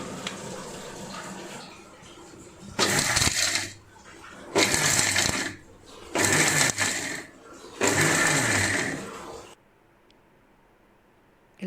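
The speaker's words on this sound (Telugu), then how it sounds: "పూర్తిగా చల్లారిన తర్వాత మిక్సీలో వేసుకుని పొడి చేసుకుందాం" A kitchen mixer grinder pulverises roasted ingredients into powder in four loud, whirring bursts of about a second and a half each, separated by short pauses, then falls quiet.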